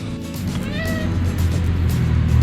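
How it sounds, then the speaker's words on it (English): A cat near a trailside camp meows plainly as it tries to get at the campers' food, giving one drawn-out, wavering meow over a steady low rumble. "That cat is trying to eat our food."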